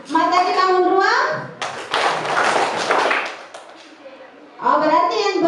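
Schoolchildren in a math class clap together in a dense burst of many hands lasting a few seconds, with children's voices speaking before and after.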